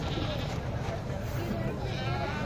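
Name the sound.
Sindhi goats bleating at the Lahore livestock market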